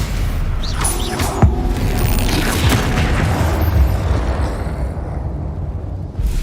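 An Incendio fire spell cast in the video game Hogwarts Legacy, a loud sustained roaring, crackling blast with a sharp hit near the start, rumbling steadily and then fading toward the end.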